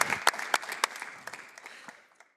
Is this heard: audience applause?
yes